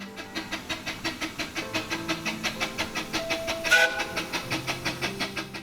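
A miniature steam train on a 12.25-inch gauge railway winding through an estate, chuffing in a steady, even exhaust beat with a brief louder burst midway, close and moderately loud, with no talk.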